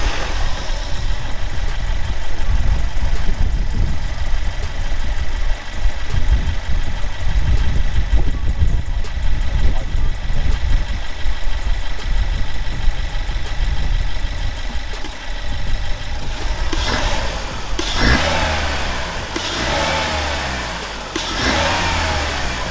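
A car engine fitted with a new air filter cranks and fires, then idles with a steady, loud mechanical rumble, with brief changes in tone and revs near the end and no voices.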